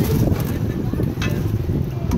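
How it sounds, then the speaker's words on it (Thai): Strong wind buffets the microphone outdoors, a loud, continuous low rumble with gusty fluctuations over the whole stretch. "ลมแรง"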